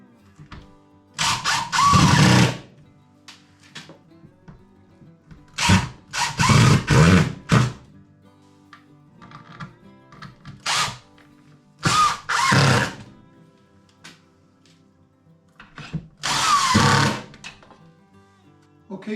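A power drill mounts a manifold panel to a workshop wall in several whirring bursts, some single and some in quick clusters, separated by quiet pauses.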